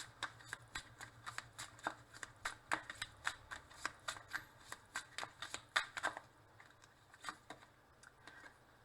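Tarot advice cards are shuffled by hand up close, a quick run of crisp riffling slaps and soft flicks in an irregular rhythm, faint and fairly quiet throughout.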